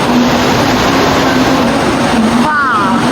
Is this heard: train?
yes